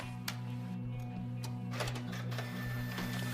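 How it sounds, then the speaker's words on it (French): A printer running off a document indoors, a steady mechanical hum with repeated soft clicks and feed noises throughout, fairly quiet and without speech. "Clique sur imprimer."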